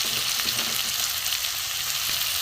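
Spice paste of salt, turmeric, chili powder, cumin and garam masala with a splash of water sizzles steadily in hot oil for an egg curry, a dense continuous frying hiss with faint stirring, no voices.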